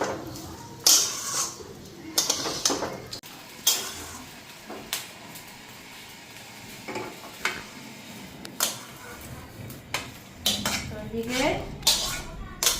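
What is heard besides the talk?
rice being fried and stirred in a pot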